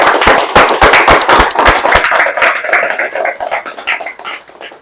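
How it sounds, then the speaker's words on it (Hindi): An audience gives loud applause for speaker Dr. Rakesh Arya at the start of a talk session, sharp close handclaps bursting out together and then thinning into scattered, fading claps. "और जोरदार तालियां हमारे आज के स्पीकर डॉक्टर राकेश आर्या के लिए।"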